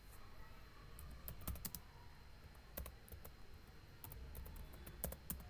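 Typing on a computer keyboard: quiet, irregular clusters of key clicks, close by, over a low background hum, with no speech.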